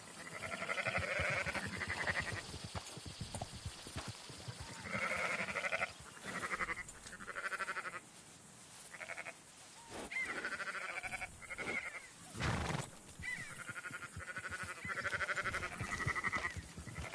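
Sheep in Red Dead Redemption 2 bleat repeatedly in overlapping, wavering calls from several animals, close and fairly loud, with short pauses between bursts.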